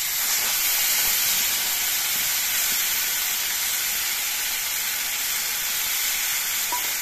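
Ground spice paste hits hot oil with dried chilli and whole cumin over a wood fire, giving a strong, steady close-up sizzle and hiss that barely varies from start to finish.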